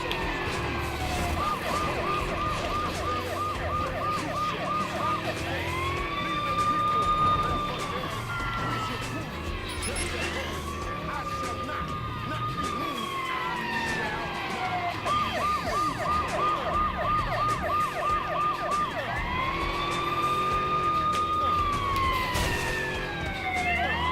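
A wailing ambulance siren in the video game Watch Dogs cycles up and down repeatedly over steady traffic noise, with a voice talking now and then underneath.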